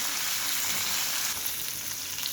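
Sarputi (punti) fish fries in oil, giving a continuous, even sizzling hiss at moderate level with no voices.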